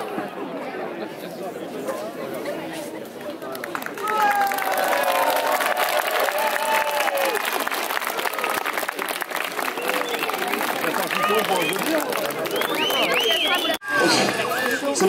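Audience at an outdoor street show in France, murmuring crowd at first, then a sustained loud wave of applause with chatter and cheers mixed in, ending in a sudden brief dip before resuming.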